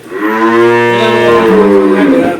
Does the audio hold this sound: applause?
no